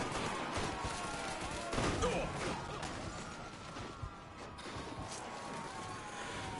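Bursts of gunfire crackle in Mafia 3 during a car chase, with shots aimed at tyres, rapid popping mixed with crashes under a steady engine and road rumble, moderately loud, while someone talks over it.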